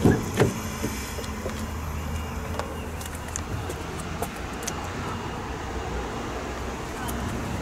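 Electric power windows whir in a 2021 Peugeot 2008 1.2 PureTech petrol hatchback, a steady, muffled motor drone inside the cabin with a few faint clicks and a soft thump near the start.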